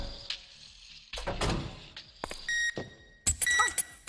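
Countdown timer in the video game Dark Deception gives several sharp electronic beeps in short bursts, mixed with clunks and other game noises.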